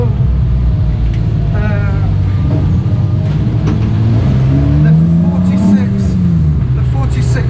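Jagermeister BMW E36 M3 road/race car, roughly 1100 kg, with its engine droning steadily from inside the cabin while driving, the pitch rising and falling with revs under ongoing conversation between occupants.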